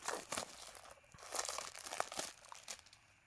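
Wonka steelbook packaging being unwrapped, with close crinkling and crumpling of plastic film in uneven bursts and a few tearing sounds, fairly quiet and with no voice.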